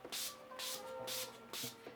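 Four quick hissing spritzes of setting spray, evenly spaced and close by, each a short airy burst.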